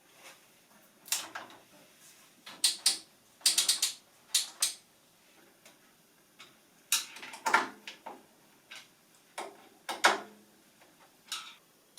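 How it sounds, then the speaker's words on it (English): Screws being slackened on the base of an Incra TS-LS table saw positioner, a series of close, crisp metallic clicks and ratcheting turns arriving in short bursts with brief pauses between them. "So I'm just going to slacken the screws off on the positioner base."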